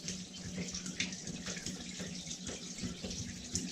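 Water runs from a hand basin tap in a steady, close, splashing stream, with small fluctuations in the flow and no break throughout.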